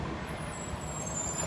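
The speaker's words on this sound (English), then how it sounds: "And after a short little bus ride," A city bus ride with air brakes, giving a steady hiss of released air over a low engine rumble and road noise, close and continuous for the whole moment.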